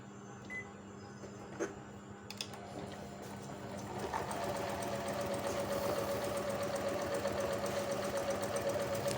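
A Juki HZL-E60 domestic sewing machine runs steadily through a stitch, its motor hum and needle rattle rising and continuing as a sustained mechanical whir, heard alone without talk.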